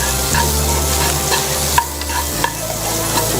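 Pork sizzles and fries steadily in a pan with fresh thyme, marjoram, sage and rosemary, with loud continuous crackle, a low hum underneath and a couple of sharp stirring knocks.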